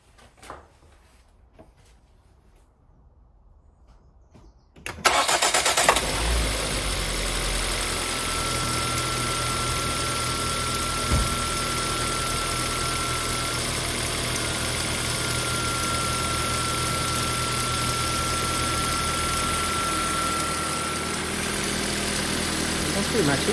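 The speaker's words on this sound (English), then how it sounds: "Now I'm just gonna start the car." A 2012 Volvo V50 engine cranks and catches after a few quiet seconds, then settles into a steady, even idle that runs on close and loud with no talking.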